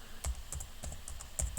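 Brisk tapping on a laptop keyboard as a web address is entered, a short run of crisp, close keystrokes with uneven spacing, no speech.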